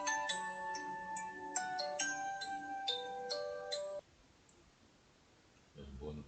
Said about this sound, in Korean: 뭐야 갑자기 전화가 오냐?